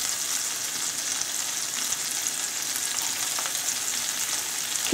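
Chopped onion sizzling in a pan with a little butter over fairly high heat, a steady bright hiss of frying throughout with a faint stir near the end, no voices.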